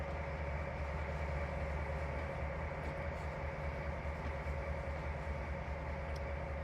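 A train in the Trainz Simulator video game hums and rumbles steadily at a low, even level, with a constant engine drone and no breaks.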